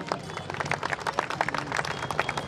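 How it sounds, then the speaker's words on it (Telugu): An audience, children among them, clapping loudly in applause at a cultural program held for the Ganesh immersion festival, a dense rapid patter of many hands close by, lasting the whole moment without pause. "గట్టిగా చప్పట్లతో అభినందిద్దాం"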